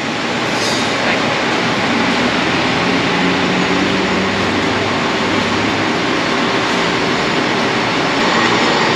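A loud, continuous rumble and roar of a metro train in motion in Teresina, steady throughout with rattling wheels and no pauses.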